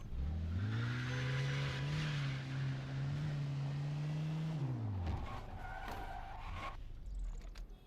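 A car in Mafia II: Definitive Edition holds a steady engine drone, then slides under the handbrake with a tire squeal, and the sound drops away into scattered skidding noise.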